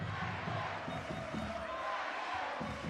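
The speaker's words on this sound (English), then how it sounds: "Good atmosphere, crowd trying to lift the home team." Arena crowd noise at a Reyer Venezia versus Galatasaray basketball game, a steady loud roar of spectators urging on the home team, with faint ball bounces and a commentator speaking over it.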